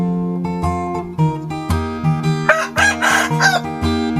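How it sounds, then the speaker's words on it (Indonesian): A rooster crows loudly and close by, a long strained call repeated in a couple of bursts with no talking. "Tuh, kokok terus dia nih."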